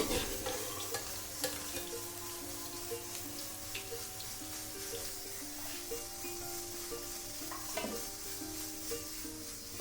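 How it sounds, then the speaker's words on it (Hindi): Okra fries in a pan for a quick bhindi gosht, a steady faint sizzle with occasional stirring scrapes and soft clicks close by. "आधी हम डाल देंगे इसमें और उसको भी हम फ्राई कर लेंगे"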